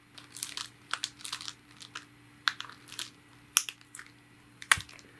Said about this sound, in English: Let me just take some scissors